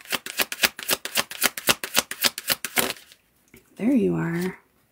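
Tarot cards are shuffled in quick, crisp riffling bursts for about three seconds, loud and close, followed by a short sung or drawn-out vocal sound.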